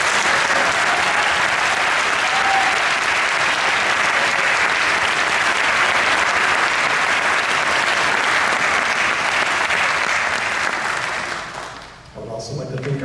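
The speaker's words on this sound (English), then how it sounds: "At this time, I'd like to encourage one more round of applause for these students." Sustained audience applause fills the room at a white coat ceremony for doctoral physical therapy students, a dense, loud, steady wash of clapping that holds for about twelve seconds before dying away abruptly.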